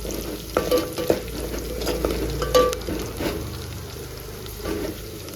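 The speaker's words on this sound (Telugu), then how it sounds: "బాగా ఫ్రై చేసుకోవాలండి ఉల్లిగడ్డని, పచ్చిగా లేకుండా గోల్డ్ కలర్ వచ్చే వరకు." Onions frying in a pan for a Telugu gongura dal tempering with curry leaves, a steady close sizzle broken by scraping stir strokes every second or so, no voices.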